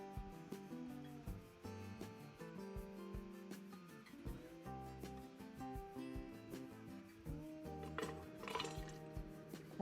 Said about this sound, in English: I'm putting in the sliced peppers. And I will be pressing them into the jar